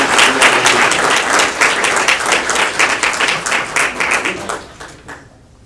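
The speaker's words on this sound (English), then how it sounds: "Another round of applause." A dense, steady round of applause from an audience at an Eagle Scout award ceremony fills the room for about five seconds before tapering off.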